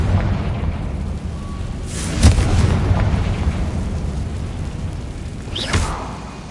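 In the video game Hogwarts Legacy, a Confringo spell sets off an explosion: a deep boom with a rumbling tail, followed a few seconds later by a second, softer blast over low game ambience.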